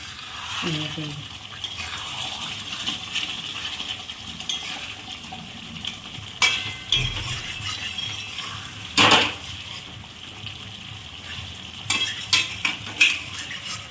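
Boal fish curry simmering in oil in an open pan, a steady close sizzle and bubbling broken by a few sharp clinks of a utensil against metal.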